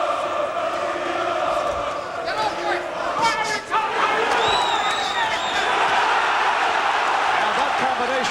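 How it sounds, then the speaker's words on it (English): Arena crowd at a professional boxing match, Frank Tate against Tony Sibson, roaring and murmuring in a dense continuous wall of noise with scattered whistles and shouts, loud and close throughout. "The crowd overreacting."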